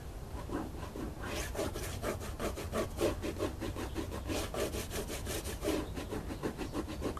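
Steady back-and-forth rubbing of Turtle Wax Super Hard Shell across car paint, a close, rhythmic squeaky friction in quick even strokes that continues without pause and with no talking.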